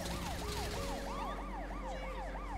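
Ambulance siren in the video game GTA 5, wailing up and down in repeated sweeps, loud and steady over a low engine rumble, with no talking.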